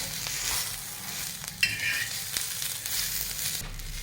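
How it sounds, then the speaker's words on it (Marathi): Sliced onion, eight to ten garlic cloves, half an inch of ginger and dried coconut slices roasting together in a pan, a continuous close sizzle with occasional spatula scrapes and knocks as the mixture is stirred. "आणि आता हे कांद्यासोबत भाजून घेऊयात"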